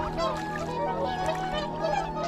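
A whooper swan gives a series of honking, bugling calls, overlapping and moderately close against faint background noise.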